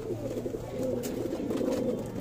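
A pure Punjabi pigeon coos steadily in a low, throaty, continuous rumble, close and fairly loud with no talking over it.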